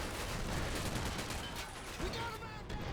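Sustained gunfire rattles through a modern line-defense battle in a Call of Duty: World War 3 mod, dense overlapping shots and bursts at a steady distance, with faint voices under the din.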